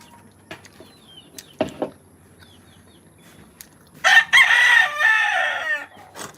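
Backyard chickens give scattered soft clucks and a few sharp calls, then one loud, close rooster crow rings out for about two seconds before trailing into quieter clucking.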